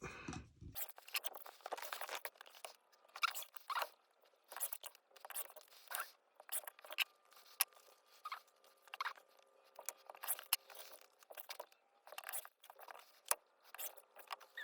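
Fabric strips for a quilted rainbow gradient wall hanging are cut, producing quiet, close, repeated crisp snipping and rustling bursts in an irregular rhythm with no talking.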